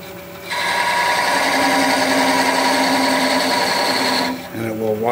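A wood lathe held at reduced speed turns a wooden mushroom ornament gripped in a chuck while it is parted off. A steady, high mechanical whine runs for about four seconds, then winds down, and a voice follows.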